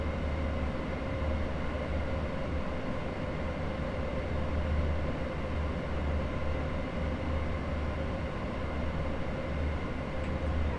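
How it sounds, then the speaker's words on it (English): Train in Train Sim World 3 running along the line, a steady loud rolling rumble with a constant mechanical hum and faint rhythmic clatter that holds unbroken throughout, no voices. "this is the same train as the Train Simulator one."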